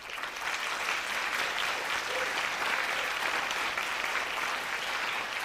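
A round of applause for an award shortlist nominee at an awards ceremony, steady dense clapping from a large audience that holds evenly throughout.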